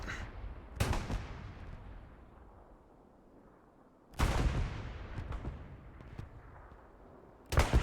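Gunfire and artillery in a multiplayer war video game match: three heavy, loud blasts spaced several seconds apart, each followed by a long, fading rumble with scattered fainter shots, and no talking.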